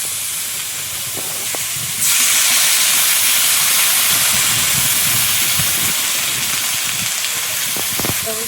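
Water poured into a hot cooking pan holding Malabar spinach, egg and green chilies bursts into a loud, steady hiss of sizzling steam that starts abruptly and continues to the end.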